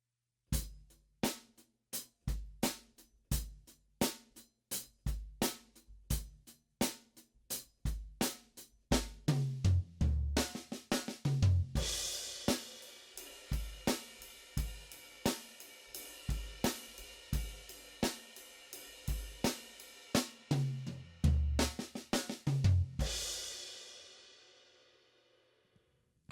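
A drum kit plays a steady groove broken by syncopated fills rolling down the toms, with crisp close hits, deep tom thumps and crashing cymbals that ring out and decay at the end.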